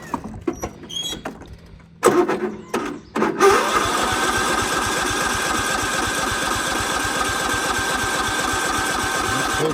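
A 2007 John Deere L110 lawn tractor on a cold start, boosted from a jump pack, cranks in a few short bursts, then catches and settles into a steady, close, chugging idle.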